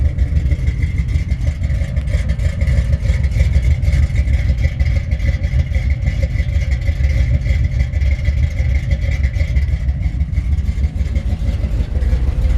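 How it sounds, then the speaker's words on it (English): A 1970 Chevrolet Camaro RS/SS with a cammed engine and 350 turbo automatic rumbles with a loud, deep, steady exhaust note close by, lightly lumpy but without clear sharp revs, and no talking. "Just gotta listen to this exhaust, sounds fantastic."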